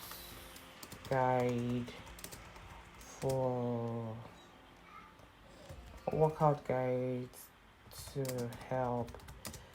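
Quick keyboard typing as an ebook description is written on a computer, clicking away steadily under a voice that talks through most of the moment.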